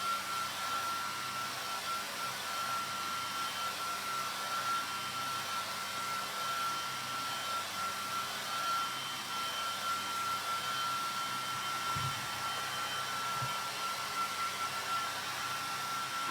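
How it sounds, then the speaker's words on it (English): A hairdryer blows steadily to speed the drying of paint along masking tape, a constant close airy roar with a thin high whine, running alone without pause for the whole stretch. "apply heat from your hairdryer to accelerate the drying time"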